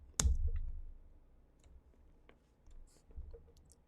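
Computer keyboard being typed on to enter a command: a few sparse, faint, close key clicks with quiet pauses between them.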